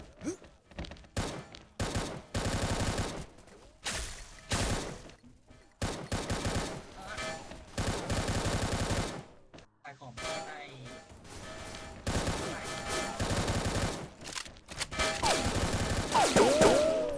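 Gunfire in the shooter XSHOT comes in choppy, loud bursts of rapid shots separated by short gaps, with metallic clangs and occasional dings scattered through the stretch.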